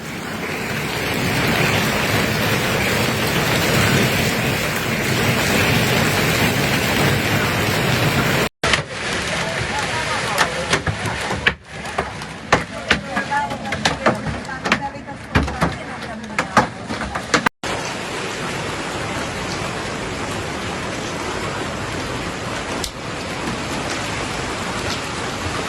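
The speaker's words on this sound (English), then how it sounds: "a sudden and violent hailstorm hit the Arenzano area, west of Genoa, with ice grains of extraordinary size" Heavy rain and hail pounding down during a violent hailstorm in Arenzano, west of Genoa, a dense, continuous roar broken midway by sharper irregular impacts and crackling bursts before the steady downpour resumes.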